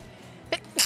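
A character sneezes in the video game Tales of Vesperia: a short sharp intake, then a loud explosive burst, close and alone with no talking.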